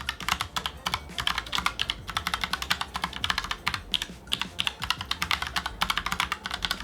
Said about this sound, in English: we have this brown TTC switch, and you can hear the sound of pressing the keys